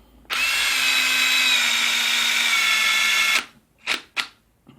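A faulty Dewalt DCF886 cordless impact driver runs in one loud, continuous high-pitched whir for about three seconds, followed by two short trigger bursts.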